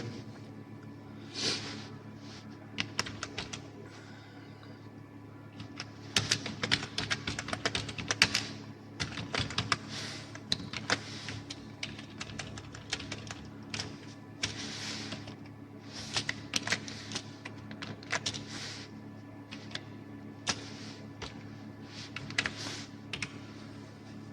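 Typing on a computer keyboard while entering a list in MS Word: steady, close key clicks in uneven bursts with short pauses, over a constant low background hum.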